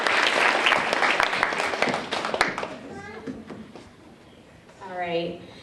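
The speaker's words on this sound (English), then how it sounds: "let's give them one more round of applause" Applause for essay winners at a DARE graduation, loud clapping from a crowd of kids and adults that thins out after a few seconds, leaving scattered claps and children's voices chattering.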